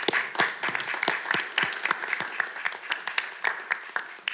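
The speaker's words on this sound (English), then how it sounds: "Let's all give a round of applause." Applause from the audience at a city board of directors meeting, a scattered round of clapping with distinct individual claps, moderately loud and steady without speech over it.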